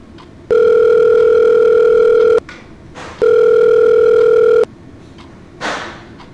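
A telephone rings on an outgoing call: two long, loud, steady ring tones of about two seconds each, separated by a short gap, with a softer rustle after.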